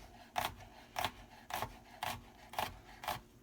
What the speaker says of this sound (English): then you'll turn your jalapeno on its side. And again, we're going to cut right through it.